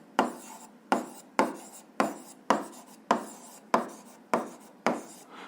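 Chalk or pen strokes scrape across a writing surface in a steady series of about ten short, close rasps, each starting sharp and trailing off, with no talking.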